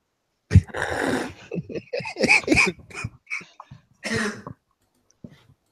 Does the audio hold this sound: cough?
yes